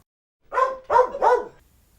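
A dog gives three quick barks in a row, close and fairly loud, with short gaps between them and quiet before and after.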